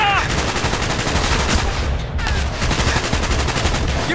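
Call of Duty: Black Ops campaign gunfire, loud and continuous rapid automatic bursts forming a dense battle din, with a brief lull midway.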